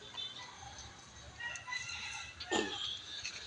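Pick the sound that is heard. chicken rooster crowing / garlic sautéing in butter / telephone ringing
chicken rooster crowing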